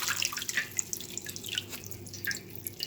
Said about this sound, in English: give everything a quick rinse. I'm gonna rinse off all this now.